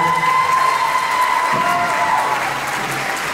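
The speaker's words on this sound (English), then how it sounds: "Everybody give her a round of applause." A school concert audience in a middle school hall claps and cheers loudly and continuously, with whoops and shouts from children mixed into the steady applause.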